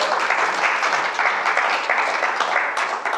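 An audience at a spiritual inspirational talk breaks into steady, dense applause, many hands clapping together at moderate volume without pause.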